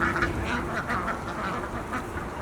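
Geese honking and calling in short, repeated bursts at a home in New York, fairly close, with no talk.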